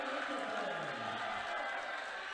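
Crowd at a girls' high school basketball game cheering after a made basket, a steady loud roar of many voices.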